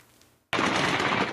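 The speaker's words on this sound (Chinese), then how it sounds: "地面枪声连发" Gunfire on the ground during a drone attack in the Ukraine war, a sudden dense burst of rapid automatic shots after a moment of near silence, loud and continuous to the end.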